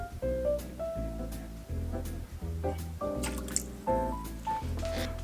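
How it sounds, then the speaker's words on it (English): White vinegar pours into a pot for homemade BBQ sauce, giving quiet, close dripping and gurgling liquid sounds in a steady trickle with small splashes. "There's our white vinegar."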